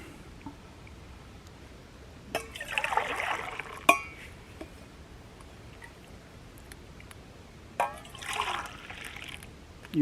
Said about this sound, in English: you cooled off your stuff just by pouring it from side to side